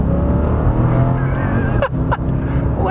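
A fast car's engine roars loudly from close inside the cabin, holding a strong, steady drone that rises in pitch, with two brief shifts or dips near the end.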